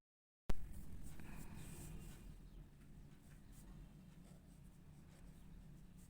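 Pen or chalk writing out a real-analysis equation by hand, heard as faint scratchy strokes over steady low room hum, with no talking.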